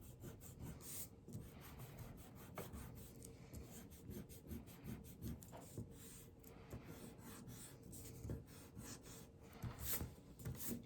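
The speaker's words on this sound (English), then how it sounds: "After I outline, I always take my handy dandy eraser and go over the spots I may have missed." Close, quiet rubbing of an eraser over a pencil drawing, in rapid back-and-forth scratchy strokes with short pauses between bursts.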